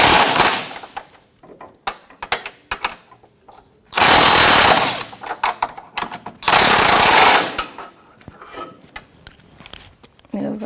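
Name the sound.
loosening Jeep Patriot ball joint bolt with 21mm wrench and socket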